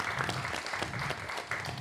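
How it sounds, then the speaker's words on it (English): Audience applause after a panel discussion, a short steady burst of clapping throughout. "Give them a round of applause."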